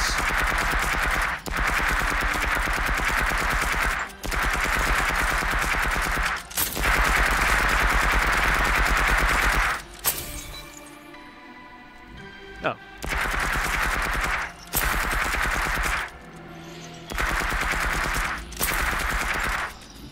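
Loud, sustained bursts of rapid gunfire from powerful weapons in a VR shooter game, several long volleys broken by short gaps and quieter moments, close and dominant throughout.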